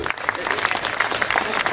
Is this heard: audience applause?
yes